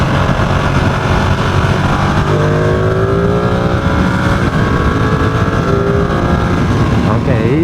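A Ducati Streetfighter V2 motorcycle being ridden, its engine note loud and steadily climbing through the gears, with strong wind rush throughout.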